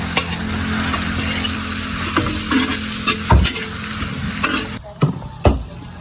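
Carrots sizzle in hot oil in a pan for a Filipino cabbage dish, with a steady frying hiss under repeated scraping and clacking stirs from a utensil, close and fairly loud.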